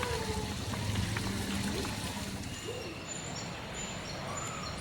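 A river stream flows steadily at a riverside resort in Nagcarlan, Laguna, giving a constant rushing wash with faint birdsong above it, while people talk nearby.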